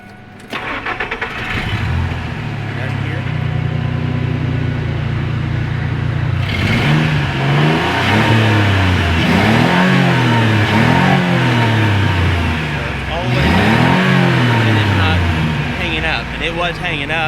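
An old car engine, running on ethanol-blended gasoline, revs up in repeated rising and falling sweeps, then settles back toward a steady idle; the engine is loud and close throughout.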